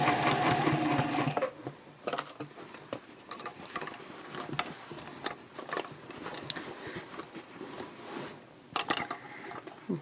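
A sewing machine stitches a round-bottom fabric basket in bursts of close mechanical whirring and needle clatter, broken by short pauses and small handling noises.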